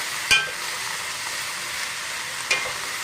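Cabbage fries in a pan for bigos, giving a constant close sizzle. Two distinct clicks of a utensil scraping and stirring the pan stand out against it.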